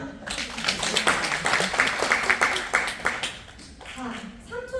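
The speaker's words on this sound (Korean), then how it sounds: "박수 한번." At a training camp session, a small audience gives a brief round of clapping, with individual hand claps distinct and uneven, mixed with chatter and voices talking over it.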